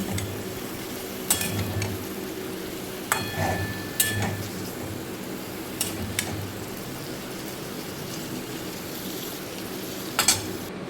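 Soft sizzling of onion and capsicum frying in a pan, punctuated by occasional sharp clinks and scrapes of a utensil stirring against metal.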